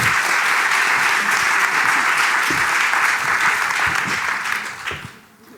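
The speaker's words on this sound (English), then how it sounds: "Round of applause, please" A live audience gives sustained, dense applause to welcome a guest onstage, loud and even for several seconds before tapering off at the end.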